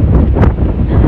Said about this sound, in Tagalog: Ay, lakas ng hangin.